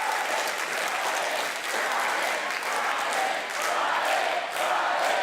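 A crowd at a presentation applauds steadily, a dense, continuous patter of many hands clapping that holds at an even moderate level throughout, with a few scattered voices mixed in.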